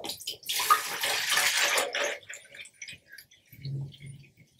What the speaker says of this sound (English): and then you wanna add your water.